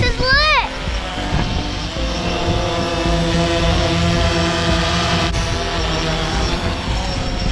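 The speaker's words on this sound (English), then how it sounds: "Guys, we're going to chase after this drone." A DJI drone flies outdoors with a steady, high-pitched propeller buzz that holds throughout, preceded by a brief rising whine at the start, with a person talking over it.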